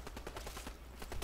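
Rapid bursts of video game gunfire rattle steadily through the whole moment, dense and fairly faint, with no voices over it.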